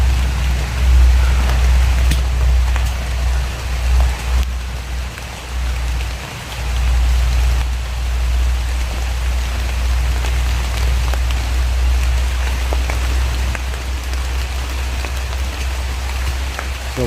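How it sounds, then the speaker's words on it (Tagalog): Steady heavy rain falls continuously outdoors in the mountains, a close, loud, dense wash of drops on surfaces over a deep rumbling undertone, with no voices. "Nabutan pa kami ulan dito."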